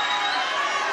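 A boxing crowd at the Lunga Sitemela vs David Raijuli bout roars continuously, a dense, steady wash of cheering and shouting that fills the whole moment without letting up.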